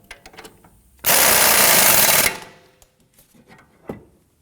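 A power tool tightens the strut assembly nut on a 2003-2014 Volvo XC90 in one loud, close burst of rattling impact noise lasting about a second, framed by quieter clicks and handling sounds.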